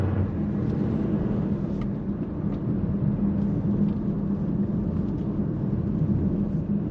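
Nissan X-Trail T32 crossover with a seven-speed transmission, accelerating onto a national speed limit road: a steady low engine and road rumble from inside the cabin that holds throughout, with no talking.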